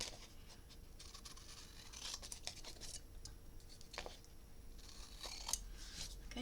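Scissors snip through paper for a handmade memory book, a series of quiet, crisp cuts and rustles at an uneven pace, close by and without any talking.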